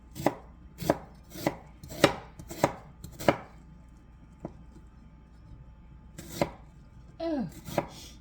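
Onions being chopped with a knife on a board for a beef, barley and mushroom stew, sharp close chops in a quick run of about six, then a pause and a few more.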